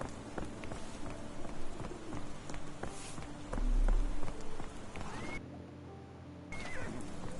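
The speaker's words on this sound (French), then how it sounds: "on peut parler à n'importe quelle calèche" Horse hooves clip-clopping in a steady rhythm as a horse-drawn carriage rolls along a street in the game Sherlock Holmes: The Awakened, with a short whinny and quiet background ambience.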